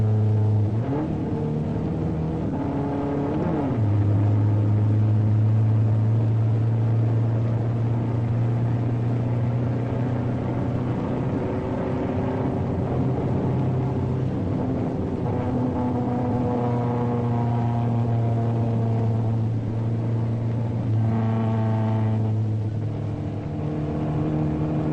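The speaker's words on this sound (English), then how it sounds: "the Mustang demonstrated excellent roadability on the closed-circuit road course at Daytona Beach" A 1962 Ford Mustang circles the closed Daytona Beach road course, its engine droning steadily with pitch rising and falling through shifts and turns, close and continuous for the full run.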